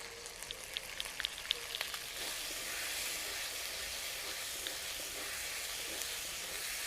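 Spices frying in a pan for a jackfruit and prawn curry, a faint, even sizzle with scattered small pops and crackles early on, then a steadier hiss, with no talking.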